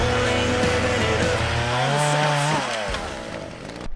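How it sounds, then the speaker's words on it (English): A chainsaw cutting through a fallen tree blocking Long Canyon Trail near Kyburz, California, loud and close, its engine revving high then dropping as the bar works through the wood. "Since we had a chainsaw, it was better to just cut and remove the tree from the path."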